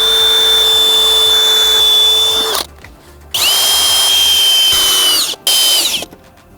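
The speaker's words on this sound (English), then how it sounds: "So let's screw in these legs." Power drill driving screws to fasten legs onto a desk: three loud, close whirring bursts, each held for a second or more before stopping, separated by brief quiet gaps.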